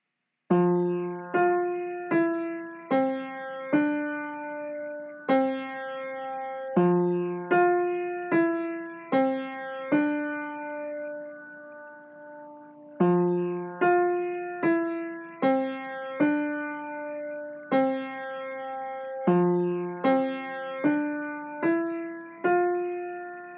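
A beginner piano piece played at a steady, moderate pace, single notes and small chords stepping up and down with brief pauses between phrases.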